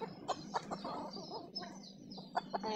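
A male papai chicken clucks close by in a poultry pen, short sharp calls repeating in an irregular rhythm over soft background farm noise.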